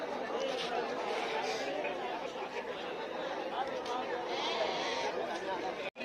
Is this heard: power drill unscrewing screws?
no